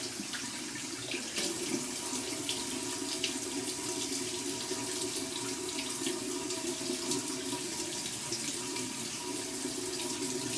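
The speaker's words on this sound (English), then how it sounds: "So we're going to go ahead and wet this in some cold water here, run it under some cold water" Cold tap water runs steadily over a block of shaving soap, a continuous close splashing hiss with no talking.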